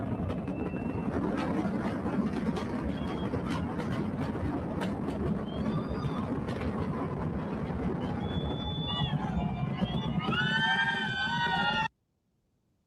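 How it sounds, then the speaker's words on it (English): Spectators at the Artemis 2 Space Launch System rocket launch whoop and cheer over a steady, loud roar of rumbling engine noise, with the shrill rising calls bunching up in the final seconds before an abrupt cutoff. "Piped in crowd noise."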